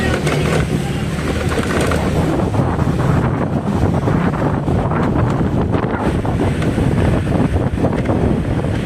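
Strong, steady wind buffets the microphone with loud rumbling gusts throughout, with faint traffic or surf noise underneath, recorded while riding a motorcycle through Tanjung Priok, North Jakarta.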